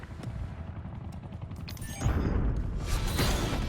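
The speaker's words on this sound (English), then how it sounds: "Using hand cannon." Hand cannon fire in Call of Duty: Black Ops 6, heard as a rapid string of gunshots and impacts that grows louder and denser partway through, with dense battle noise underneath.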